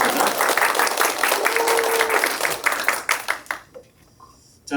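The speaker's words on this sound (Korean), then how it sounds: "이런 박수 한번 치셔도 좋습니다" Audience at a church summer retreat bursts into dense hand clapping, loud and continuous for several seconds before quickly tapering off into near silence.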